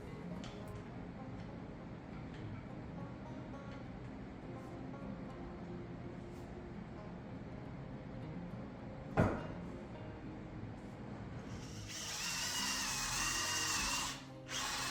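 A power drill bores holes into a wooden workbench trestle being lag-bolted together. It runs as a steady continuous whir for about twelve seconds with one sharp knock partway through, then climbs to a louder, higher-pitched whine near the end.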